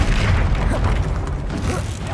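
A Confringo blasting spell explodes in the Hogwarts Legacy video game, a loud, dense boom with rumbling low-end that sustains throughout, a voice briefly audible beneath it.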